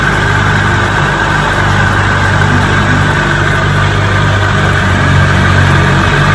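A 1957 18 HP Evinrude outboard motor runs at high speed during a lake test, a loud, continuous close-up drone with a slight surge, no talk.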